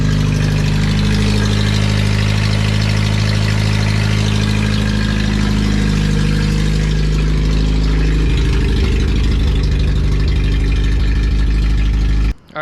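A car engine idles steadily at operating temperature with a deep, droning hum and a low rumble, smoking from oil on the exhaust manifold, growing slightly rougher later before cutting off abruptly at the end.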